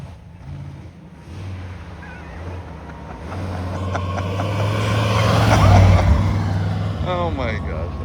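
A 1957 Ford Thunderbird cruises on an ordinary road, its engine droning loud and close, with the note climbing gradually as it picks up speed toward highway pace while people chat inside the car.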